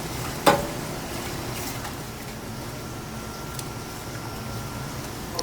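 A whisk stirring a seafood chowder base into a thick paste, producing a soft, steady scraping and sizzling hiss with a single sharp clink near the start, close and quiet, with no talking.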